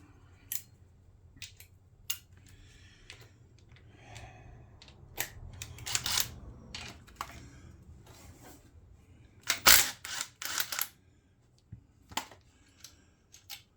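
A socket ratchet clicks in short bursts while removing brackets from a Honda GL1000 Goldwing engine, with sharp metallic ticks and clunks, some louder, spread over a quiet workshop background.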